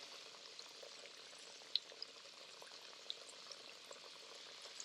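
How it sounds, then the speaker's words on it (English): Green tomatoes fry in oil in a cast iron skillet, giving a faint, steady hiss with scattered small pops and crackles throughout. "now these are browning, cooking, and they're going to be phenomenal"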